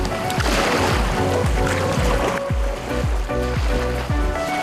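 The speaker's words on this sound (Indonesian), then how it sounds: "Ombak yang tidak terlalu besar dan semilir angin menambah semangat saya mendayung kano di sini" Small sea waves lapping around a canoe being paddled off an island in Lampung, with continuous splashing water and repeated low knocking thumps from the hull and paddle.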